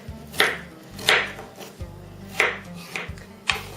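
Knife chopping carrots on a cutting board while preparing a heart stew, about six sharp, close chops at uneven intervals with brief quiet gaps between them.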